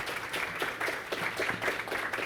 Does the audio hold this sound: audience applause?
yes